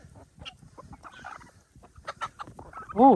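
Chickens and a turkey in a backyard poultry yard give scattered clucks and brief squawks, ending in one louder harmonic cry close by, with a few people talking faintly in the background.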